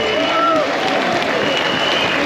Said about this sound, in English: give him a massive round of applause